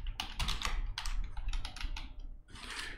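Quick bursts of typing on a computer keyboard, clustered key clicks with brief pauses between runs, close and clear with no talking.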